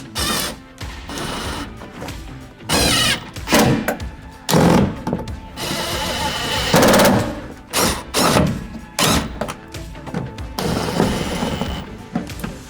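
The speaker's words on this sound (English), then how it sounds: "we just take our self-threading screws and we're gonna drill them" Repeated short bursts of a power drill driving self-threading screws into a Ford Transit Connect van's interior, each a few seconds long, with clunks and thumps of handling between them, close by.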